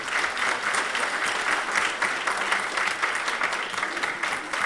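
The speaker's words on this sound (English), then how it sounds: "I think those ladies all deserve a big round of applause" Audience applause for a group of women presenters at the end of a session, a dense and steady clapping that holds evenly through the stretch and sounds moderately near.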